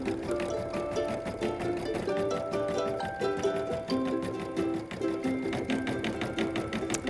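Embroidery machine stitching a satin stitch frog design, a fast steady mechanical rattle of needle strokes running continuously and close.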